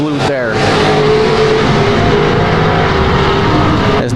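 Street stock cars race on a dirt oval, engines roaring loud and continuous as they pass close, with an announcer talking over the noise throughout.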